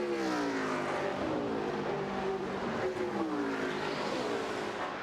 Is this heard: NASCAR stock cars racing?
yes